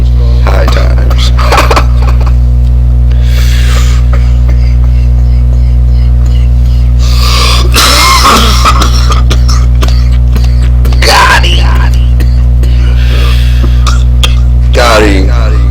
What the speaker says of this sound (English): He's choking. He's dying. He's coughing. He's choking.